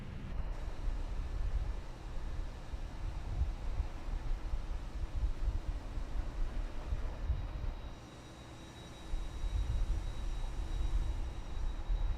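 Airbus A320 engines run at TOGA takeoff thrust with flaps 2 in a flight simulator, a loud, constant broadband roar that briefly eases near the end before rising again.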